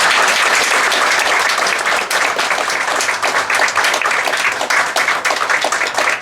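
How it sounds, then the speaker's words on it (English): An audience at a fraternity anniversary celebration bursts into sustained applause, many hands clapping loudly and continuously for several seconds without a break. "so let's give her a round of applause."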